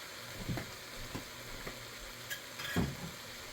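Garlic frying in a pot for winter chili gives a quiet, low sizzle under a few soft knocks and scrapes from stirring, spaced out across the stretch, with no one speaking.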